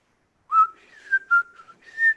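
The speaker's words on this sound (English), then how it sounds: "I come back, give a little whistle." A person whistles a short melodic tune of a few clear, sustained notes with brief gaps between them, close and alone against silence.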